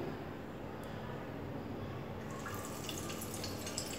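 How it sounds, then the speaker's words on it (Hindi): Cooking oil is poured into a kadhai on the stove for poha, a faint liquid trickle that grows slightly brighter midway through against a quiet room hiss. "मैंने कढ़ाई चढ़ा दी है और कढ़ाई में हम तेल डालेंगे।"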